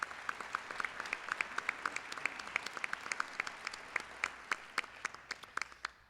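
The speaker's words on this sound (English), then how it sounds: "Let's give those folks a round of applause." An audience at a city address bursts into applause, with many individual claps rippling through the room at a lively, uneven pace before thinning out toward the end.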